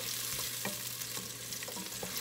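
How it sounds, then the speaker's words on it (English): Chopped onion sautés over high heat in a pan for vegan fried rice, a steady close sizzle with a few stirring scrapes and clicks running through it, no voices. "So the first thing that's going in is our onion. We're just gonna let this saute for a few seconds."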